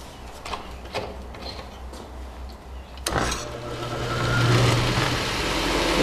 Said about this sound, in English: New buffer wheel. Turn this thing up to high speed.